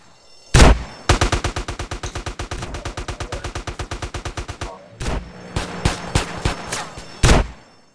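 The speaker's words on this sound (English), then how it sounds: "And we have to shoot lots of cops now." Gunfire in the GTA San Andreas video game, a single loud shot followed by a long, rapid automatic burst, then a short pause and several more scattered shots, all loud and close.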